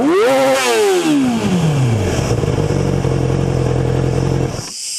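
A Yamaha YZF600 R6 motorcycle revs hard, its pitch rising sharply, then falling and settling into a loud, steady idle-like drone that cuts off near the end.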